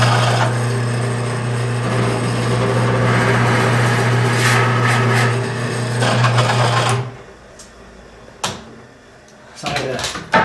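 A drill press widens a hole in a log for spiral log stairs, a steady motor hum with grinding and rasping for about seven seconds, then it stops, leaving faint knocks and room sound.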